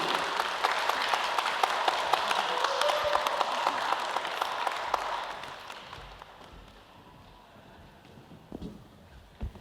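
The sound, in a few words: audience applause for the speakers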